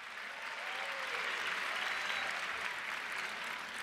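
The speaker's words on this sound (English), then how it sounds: "give her applause" A commencement crowd at the VCU School of Business bursts into sustained applause, dense clapping that stays even and full for nearly four seconds with no talk over it.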